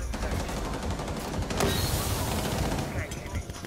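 Dense, continuous gunfire from the Rainbow Six Siege video game fills the whole stretch, rapid shots blurring into a loud, unbroken barrage with a sharp crack partway through.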